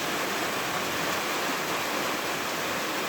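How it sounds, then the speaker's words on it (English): Rain falls steadily outdoors as an even, unbroken hiss that holds at the same level throughout, with no voices. "It's raining."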